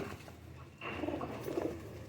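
Teddy pigeons from a pigeon breeder giving soft, low cooing, two brief coos close by over quiet background noise.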